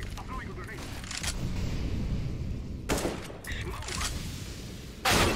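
Gunfire in the video game Counter-Strike: Global Offensive, with bursts of shots cracking out at intervals and a loud final volley near the end, heard beneath players talking over voice chat.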